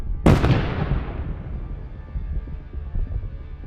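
A Javelin missile strikes a Russian tank in a large explosion: one sudden close blast, followed by a long rumbling decay with scattered crackles and low thumps.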